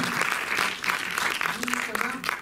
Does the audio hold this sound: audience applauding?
yes